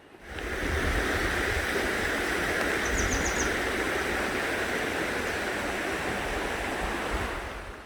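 A shallow mountain valley stream rushes continuously, a steady broadband wash of flowing water that is close and fairly loud, with no speech over it.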